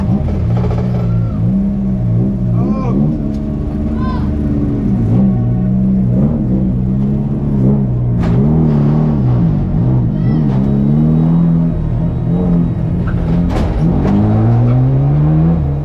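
A car's engine cranks and sputters, failing to catch during a bump start at a caravan destruction derby, its rough rumble rising and falling in strained pitch sweeps under steady loud noise for about sixteen seconds.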